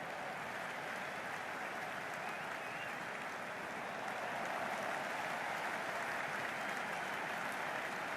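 Steady, dense crowd applause and cheering filling a roofed stadium in the video game Cricket 26 during an England vs Australia T10 match, continuous for the whole stretch and swelling slightly toward the end.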